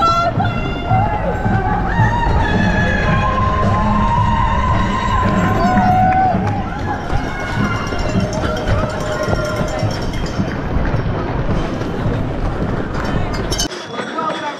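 Spectators lining the Manchester Marathon course cheer, shout and whoop in a loud, continuous swell as runners pass, with voices rising and falling around the listener.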